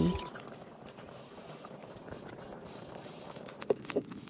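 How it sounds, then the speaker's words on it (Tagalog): Close, steady bubbling and simmering of a boiling pot, a soft continuous churn with a few louder pops near the end. "Ayan, kumukulo na, malapit na maluto."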